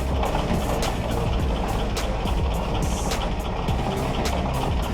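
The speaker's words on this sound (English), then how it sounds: "I'm putting the clutch in, and it seems to be running." A Willys jeep's L-134 Go Devil four-cylinder engine runs steadily with the clutch in, a loud, continuous mechanical rumble with rhythmic ticking throughout.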